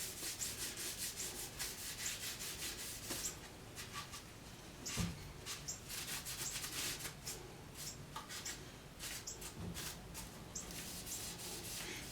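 Steady close rubbing as finish is worked into a walnut music stick with paper, a continuous scratchy friction with brief louder strokes, no talking.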